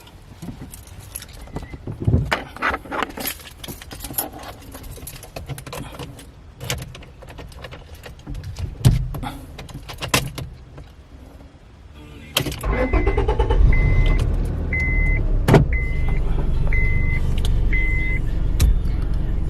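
A Honda car's engine cranks and starts after keys jangle and handling sounds, then settles into a steady, fairly loud idle with a faint repeating chime.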